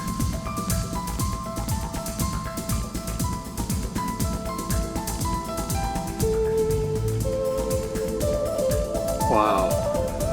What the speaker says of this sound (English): I don't even know how you make your guitar sound like this